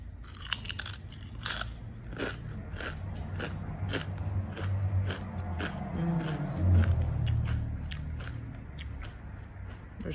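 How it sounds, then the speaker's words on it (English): Multi-grain Stacy's pita chips are chewed close to the microphone, sharp crunchy bites at the start giving way to a steady run of crackling chews. "They're super crunchy."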